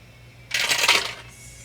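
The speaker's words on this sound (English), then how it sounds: "They need a 13 on the dice to hit him." Dice rolled during a tabletop role-playing game session, a sharp clattering burst of plastic tumbling and rattling across a hard surface for about a second, close and fairly loud, then settling.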